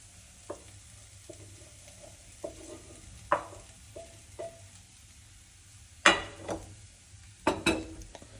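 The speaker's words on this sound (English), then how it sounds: "lastly, I'm gonna throw our sausage in there" Garlic sausage frying in a pot in a small kitchen, a low steady sizzle punctuated by utensil clatter and scraping knocks against the pot, with several louder clanks near the end, close and unaccompanied by talk.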